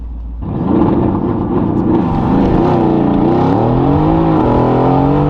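Mercedes-AMG GT S with traction control fully off accelerating hard, a loud engine roar that rises in pitch with clear gear changes, heard up close without talking.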